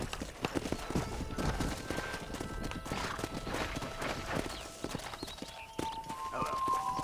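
Horse hooves clip-clop steadily throughout while herding cattle down a road in the Red Dead Redemption video game, with an occasional whinny and brief tonal game sounds over the busy trotting rhythm.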